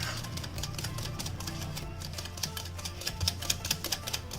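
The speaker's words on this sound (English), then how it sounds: "Now I'll just add my oil to it. Give it a nice whisk." Whisk beating an egg, sugar and oil mixture in a bowl, fast regular clicking strokes running steadily close up, with a low hum underneath.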